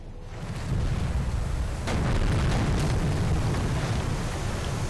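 Shell hits and explosions strike warships in a Pacific naval war game, making a continuous loud rumbling roar of blasts with a sharper impact near the two-second mark, no voices over it.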